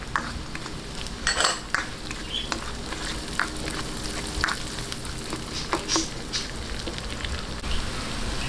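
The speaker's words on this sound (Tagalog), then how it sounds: "Ngayon po, ilagay po natin itong sibuyas." Onion sizzles in hot oil in a pan for a pork ribs dish, a continuous crackling fry punctuated by occasional utensil scrapes and clinks, close and alone without talk.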